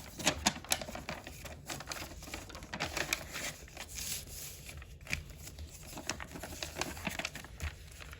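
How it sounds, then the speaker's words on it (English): A square sheet of origami paper, about 9 3/4 inches per side, being folded by hand into a base, a faint, close run of crisp crinkles, creases and soft taps with irregular rhythm. "now we're just gonna fold the Vulcan base."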